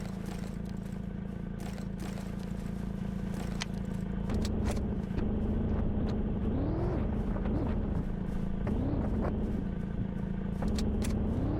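Car driving in the zombie game Zed Zone, a steady low engine drone with clicks, clatter and scraping, and a few rising revs partway through.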